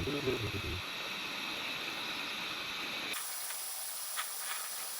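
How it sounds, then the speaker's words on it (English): Steam hisses steadily from a pot heating on a portable cassette-type gas stove, a continuous airy rush that thins and quiets partway through, with faint clicks and no talking. "Definitely some steam coming out already."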